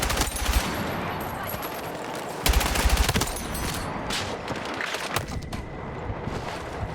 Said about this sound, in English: The guns feel more aggressive, the hisses from the jets and helicopters flying overhead, the explosions from the tanks more pounding.